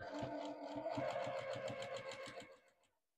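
A sewing machine top-stitches folded edges on denim hexagons for an up-cycled jeans quilt, its needle pattering in a fast, steady rhythm before slowing and stopping near the end.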